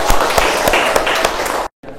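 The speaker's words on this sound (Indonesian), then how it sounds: "Tepuk tangan untuk kita semua" Applause from a madrasah classroom audience, a loud, dense patter of many hands clapping with a few sharper claps that cuts off abruptly near the end.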